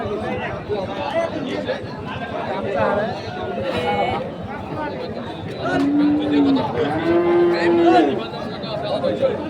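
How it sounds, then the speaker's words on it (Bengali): Beef cattle at a rural livestock market mooing amid a busy crowd: a few drawn-out, fairly close moos rise over constant chatter and people talking. "আরেকটি গরু দেখছি"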